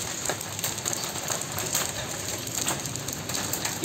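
Heavy hail falling during a storm in Jamshedpur, a dense continuous patter and clatter of hailstones striking surfaces close by, with sharper individual impacts scattered through the steady roar.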